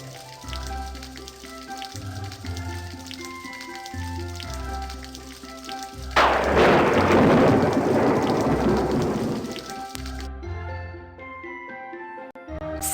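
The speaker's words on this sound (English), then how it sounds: "Tap and hold the clouds to make it rain" In a Red Riding Hood storybook game, rain patters over a musical background, then a loud rolling thunderclap swells mid-way and fades out.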